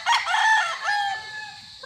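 A Raptor gamefowl rooster crows once, close and clear, with a drawn-out cock-a-doodle-doo that fades at the end.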